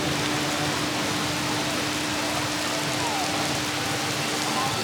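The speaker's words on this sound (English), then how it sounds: "Driving rain. Oh no, here it comes again." Driving rain at the Alton Towers theme park in July, a dense, steady hiss of heavy rainfall pattering on surfaces, loud and continuous, with no voices.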